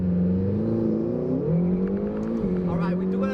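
A McLaren GT accelerates flat out from first gear, with a loud engine drone that climbs steadily in pitch, eases off briefly mid-way and then rises again, heard from inside the car under faint voices.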